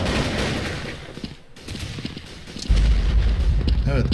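Gunfire and bomb blasts from the browser first-person shooter First Blood, with scattered shots, a brief lull, then a loud, sustained rumbling barrage of explosions and firing.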